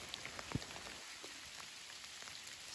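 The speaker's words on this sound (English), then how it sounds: "Still raining, getting harder." Steady rain patters on a forest trail in the Foothills of South Carolina and North Carolina, a soft continuous hiss with a few brief close drops and bumps.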